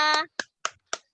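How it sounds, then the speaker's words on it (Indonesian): A brief voice, then three quick, sharp claps in a steady rhythm, close and crisp, with silence between them. "tepuk tangan untuk kelompok 2"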